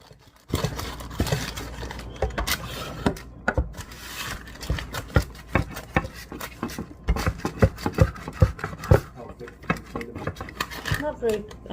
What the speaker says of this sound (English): the whole idea is to just get this meat all flattened out as much as you can